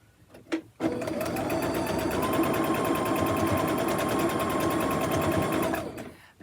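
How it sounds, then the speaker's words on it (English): A sewing machine stitches fabric corners together, its rapid, steady motor whir and needle chatter running loud and close for about five seconds after a brief pause, with no talking. "I'm going to stack that up pretty good and then sew my corners together here"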